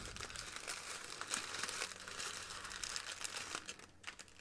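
Tissue paper crinkling as it is arranged to support an open book, a soft continuous rustle with small crackles, close and quiet, with no talking.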